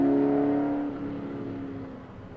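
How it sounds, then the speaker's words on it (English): Chevy V8 in a C3 Corvette at a historic sprint event, a loud steady engine note carrying through the first turn, dropping in pitch and fading slightly as the car moves away. "Peter McCullough, who actually owns the car, brings the C3 Corvette around to the first turn. And that glorious Chevy V8 sound."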